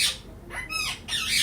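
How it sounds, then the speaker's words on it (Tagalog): A pet bird squawks loudly and close by at home, giving a few harsh, rasping calls in quick succession over a windy morning background. "naingay na naman ang aming ibon."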